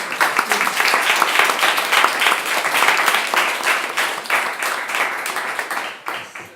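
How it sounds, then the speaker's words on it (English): An audience at a competition awards event applauds warmly, a loud, dense round of clapping that holds steady, then drops off abruptly near the end. "A big round of applause."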